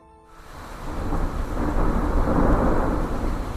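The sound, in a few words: thunderstorm with heavy rain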